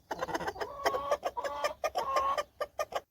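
A broody hen clucks close by in a rapid, irregular series of short, throaty calls with a few longer drawn-out cackles, after her chicks have hatched.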